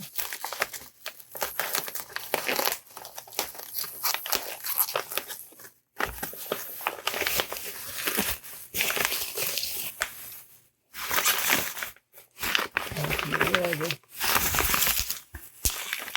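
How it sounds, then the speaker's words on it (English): Loud, busy crinkling and rustling of plastic bubble wrap being handled up close, in bursts with brief pauses between. "I'm sure everybody's sick of the sound of bubble wrap at this point."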